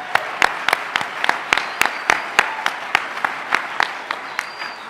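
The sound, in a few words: applause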